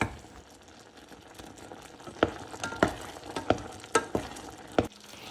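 Homemade apricot butter cooking over medium heat in a pot, thick bubbling pops and a series of stirring knocks and scrapes at an irregular rhythm, close, with no voices.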